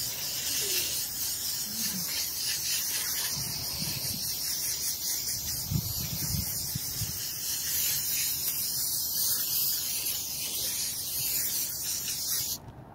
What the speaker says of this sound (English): I'm just gonna go with this and spray it through